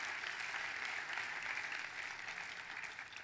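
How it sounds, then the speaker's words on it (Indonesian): Steady applause from a crowd, dense and even clapping that holds at a fairly constant level throughout. "tepuk tangannya yang paling meriah buat Tuhan kita."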